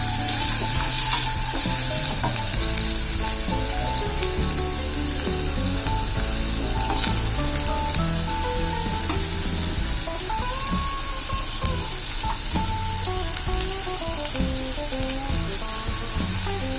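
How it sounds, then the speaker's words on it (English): Sweet gourd fries on full flame in a pan, a loud, continuous crackling sizzle with occasional stirring scrapes, heard close and without talk. "Now I'm gonna put my sweet gourd. I'm cooking this on full flame, by the way."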